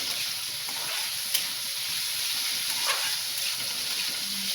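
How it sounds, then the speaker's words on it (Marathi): Onion and cumin sautéing in a pan over a lowered gas flame while greens cook, a steady quiet sizzle with a couple of faint clicks, no talking. "कांदा चांगला परतून घ्यावं."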